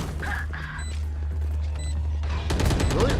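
Rapid bursts of gunfire from a Valorant match in a college esports game, a short volley early, a pause, then a dense loud fusillade at the end.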